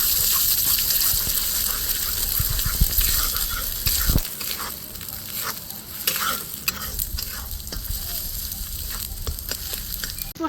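Egg bhujia, a lightly salted scrambled egg, sizzles and crackles steadily in a hot pan while a spatula stirs and scrapes it, close and continuous.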